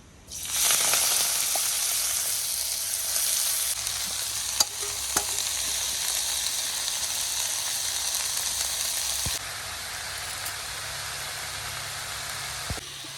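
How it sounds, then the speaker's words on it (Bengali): A mix of seven kinds of leafy greens fry in a pan with a steady, bright sizzle, occasional stirring clicks, and the hiss easing slightly toward the end. "7 রকমের শাক দিয়ে শাক ভাজা করব"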